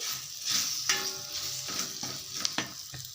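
Green chillies fry and get stirred in a pan, a steady close sizzle broken by several scraping stirs, with no talking.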